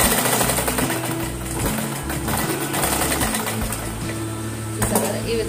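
A sewing machine stitches frills onto a saree petticoat in a run of steady, close mechanical whirring bursts, with someone speaking over the stitching.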